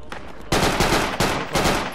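Loud, close gunfire in the military game Project Reality, with three heavy bursts of rapid automatic fire following one another within two seconds.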